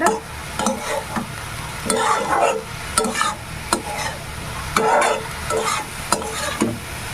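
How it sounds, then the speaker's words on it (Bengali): Red amaranth greens fry in a pan, releasing their water, while a utensil scrapes and stirs them in repeated sharp strokes over a continuous sizzle. "এই পানিতেই শাক সেদ্ধ হয়ে যাবে ভাজা হয়ে যাবে"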